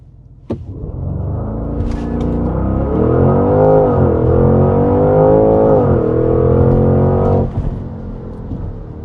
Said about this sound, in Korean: 자, 여기 차가 없는 걸 보고 제가 론치 스타트 한번 해볼게요